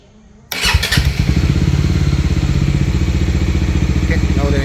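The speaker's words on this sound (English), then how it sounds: "Let me kick in starter for you now." A motorcycle engine is cranked by its electric starter and catches at once, settling into a loud, close, steady rapid idle with a fast even pulsing throb.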